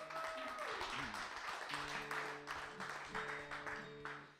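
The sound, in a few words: audience applause at open mic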